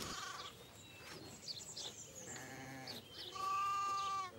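Sheep bleat in a grassy field, several drawn-out calls at a moderate distance, with one louder bleat toward the end over a soft outdoor background.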